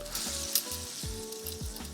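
Teriyaki chicken sizzles and bubbles steadily in its glaze over a Kamado Joe grill, a close, continuous frying hiss with intermittent clinks and scrapes of stirring and no talking.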